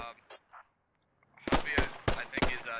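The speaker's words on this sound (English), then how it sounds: "Hitchens is throwing some more SKS fire" Four sharp, loud SKS rifle shots ring out at a steady pace in the game Squad, following a few seconds of near silence with faint distant sounds.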